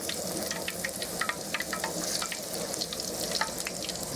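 Nasturtium flower fritters fry in hot oil, giving a close, steady crackling sizzle with scattered pops and no voices.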